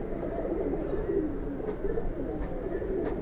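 Racing pigeons at a Dhaka rooftop loft, including a young brown-throated female, coo in a steady, low murmur that carries through the whole stretch over a constant background hum, with no talking.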